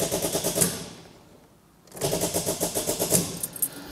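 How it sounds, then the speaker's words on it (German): A second-generation Chevrolet Camaro engine cranking weakly on low battery voltage, a rapid rattling clatter of the starter that runs for about a second, breaks off into quiet, then returns for a second, longer stretch. "Aber jetzt hört mal hin, wenn ich versuche zu starten."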